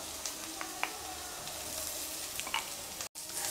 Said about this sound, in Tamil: இப்போ வெங்காயம் நல்லா வதங்கிடுச்சுங்க இது கூட கருவேப்பிலை பச்சை மிளகாய் இஞ்சி சேர்த்திருக்கேன் நல்லா வதங்கட்டும்